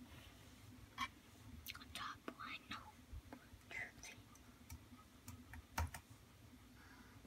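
Quiet typing on a computer keyboard at home, with irregular clicks and taps spread across the stretch, interspersed with soft whispering and low murmured speech in a hushed room.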